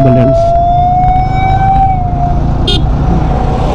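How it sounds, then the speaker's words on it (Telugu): Ambulance siren wailing close by on a highway during a motorcycle ride, a single long rising-and-falling tone over loud, steady road and wind rumble. "అంబులెన్స్."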